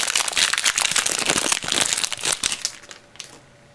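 A Yu-Gi-Oh card pack's foil wrapper is torn open at the glued seam, giving dense, close crinkling and crackling that eases into a few sparse crackles at the end.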